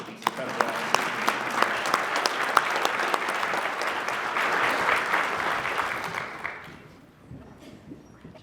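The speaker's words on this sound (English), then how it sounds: "Another round of applause for these incredible officers." An audience at a Greater Hampton Roads Crime Lines Top Cop Awards ceremony applauds honored police officers, with a loud, sustained wash of many hands and sharper individual claps, then fades away near the end.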